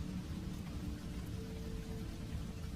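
Rain from a night storm, heard as a steady, dense wash of falling rain with a low rumble beneath, even and continuous throughout with no voices.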